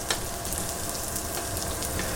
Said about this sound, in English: let's start to get these cooking, get the onions a little bit brown